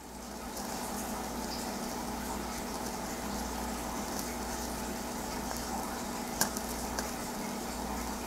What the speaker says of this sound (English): right now it's starting to sizzle. This briquette is starting to ignite right here.